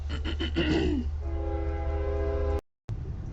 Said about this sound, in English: there was a train going by